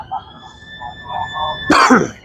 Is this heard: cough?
yes